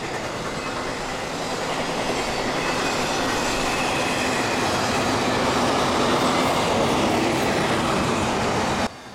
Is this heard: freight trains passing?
yes